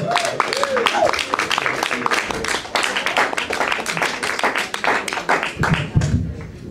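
Audience clapping for the next comedian at an open mic night at The Brew House Gallery, a dense spread of claps heard under a voice talking over them for most of the stretch.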